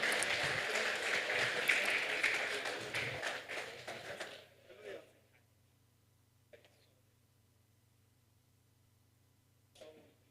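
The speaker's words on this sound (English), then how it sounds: "Ladies and gentlemen, please a round of applause as our panelists get off the stage." A conference audience applauds as panelists leave the stage, a dense, sustained round of clapping that tapers off after about four seconds into a quiet hum broken by a few faint bumps.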